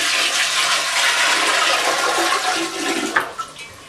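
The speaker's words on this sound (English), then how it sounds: "So now we just gotta switch it to drain." Soapy water draining out of a Giantex mini portable washer, a broad rushing, gurgling flow that stays steady, then sputters and tapers in a few splashy bursts near the end.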